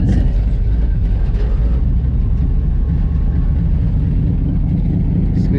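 A NASCAR stock car engine idles with the choke on, a loud, close, continuous low rumble that holds steady throughout with a slightly uneven, lumpy character.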